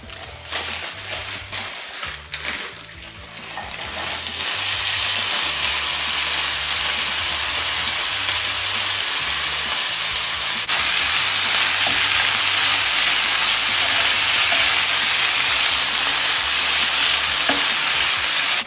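A vegetable mix sizzles steadily in hot oil in a pan, giving a loud, continuous hiss that swells partway through, with some stirring clatter early on.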